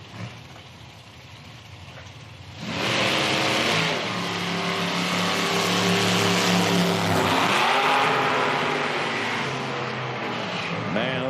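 Nitro drag race cars from an IHRA Outlaw Nitro Series Pro Am session at Hebron, Ohio launch side by side, a sudden thunderous roar that stays loud and sustained for several seconds, shifting pitch as the cars pull away.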